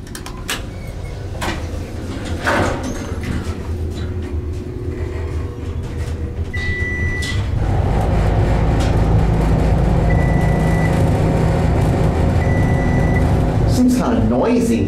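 Dover Traflomatic IV traction elevator at the Connally Building, Texas A&M: steady low machine hum and rumble that swells loudly as the car rides, with short chime tones and door sliding, and people talking over it.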